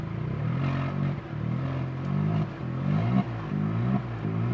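A Skoda Rapid converted into a cabriolet revs its engine under throttle, giving a close, loud rumble that climbs and falls in repeated swells with a rattly exhaust edge and no talk.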